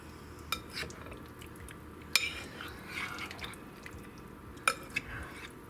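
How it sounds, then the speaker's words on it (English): Meatballs stirred in thick sauce in a pot, a few sharp clinks of a utensil against the pot rim with soft wet stirring between, against quiet kitchen background. "a good stir. So all of them get coated with this luscious sauce"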